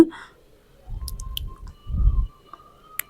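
Jaggery syrup boils in a pan for Diwali adhirasam, giving soft, thick bubbling plops in two short bursts with quiet pauses between them, faint and close.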